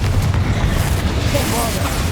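A Confringo blasting curse detonates in Hogwarts Legacy, a dense, rumbling low boom sustained across the moment amid game noise, fairly loud throughout.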